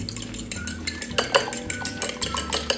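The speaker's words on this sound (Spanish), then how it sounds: "Batimos un poco el huevo" An egg with milk whisked briskly in a bowl, likely with a fork, gives a steady run of quick, close clinks and scrapes against the bowl's side, roughly three strokes a second.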